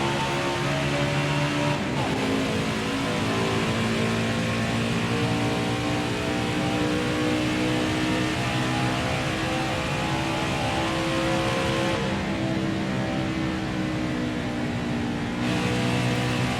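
A NASCAR race car engine lapping Chicagoland in NASCAR Heat 4 holds a loud, steady high-revving drone throughout, with brief pitch dips and climbs at gear or throttle changes and no talking.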